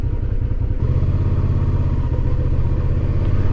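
A motorcycle engine runs steadily and loudly up close with a deep, throbbing low rumble, shifting to a fuller, heavier drone after about a second, on a ride near a state park campground at Voyageurs National Park.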